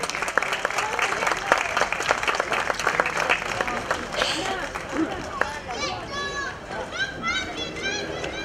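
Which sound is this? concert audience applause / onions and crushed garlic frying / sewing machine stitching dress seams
concert audience applause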